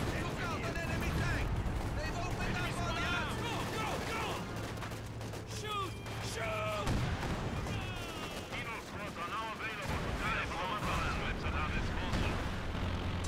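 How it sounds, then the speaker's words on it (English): Heavy machine gun firing amid a World War II battle at Stalingrad in Company of Heroes 2, sustained rattling bursts mixed with distant artillery booms, shouted unit voices and steady battlefield din throughout. "It's a heavy machine gun."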